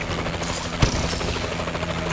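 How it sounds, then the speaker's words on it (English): A Warbird aircraft in Call of Duty: Advanced Warfare drones steadily overhead with a rotor-like hum beneath game noise, with one sharp thump partway through. "Friendly Warbird in the air."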